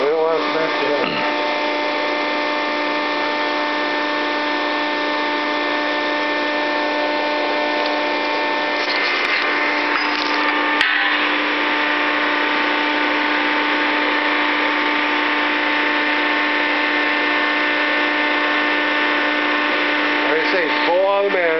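An automatic cutting machine runs with a loud, steady mechanical hum and whine that holds for the whole stretch, with brief clanks partway through.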